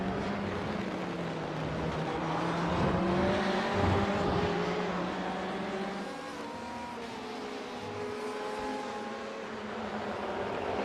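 A BMW race car in a GT Challenge race at Lime Rock roars down the front straight, its engine note rising through the gears, then fading with another car's drone under it.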